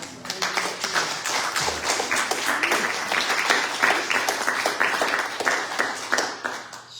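A church congregation at a fellowship Sunday service gives Mary a long, dense round of applause, many hands clapping steadily and loudly for the full stretch, with faint voices mixed in.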